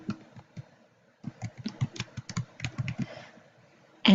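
Keys clatter on a computer keyboard in a quick irregular run of taps, close and fairly quiet, with a brief pause before the typing resumes and then stops.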